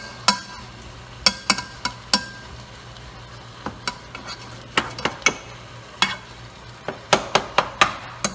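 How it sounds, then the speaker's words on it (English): Ground meat browning in a pan for meat sauce, with a spatula giving sharp irregular taps and scrapes against the pan over a low steady hum and faint frying. "I'm browning the meat with the ingredients that I put in there."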